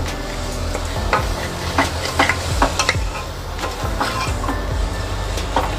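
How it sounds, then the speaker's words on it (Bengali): Rice and red lentils being stirred with spices in a pan for musur dal khichuri, giving a steady close sizzle with repeated scraping strokes and utensil clinks, no voices. "চাল আর ডালটাকে একটু এই মশলার সঙ্গেই তোমরা কষিয়ে নেওয়ার চেষ্টা করবে একটু নেড়ে নেওয়া"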